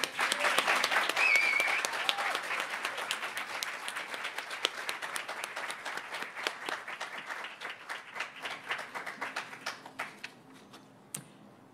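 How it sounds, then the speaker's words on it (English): An audience applauds award winners at a spring celebration event, in a sustained round of dense clapping that gradually thins out and fades into scattered claps, with faint murmuring underneath. "Please join me again in thanking Sarah and Brian with a round of applause."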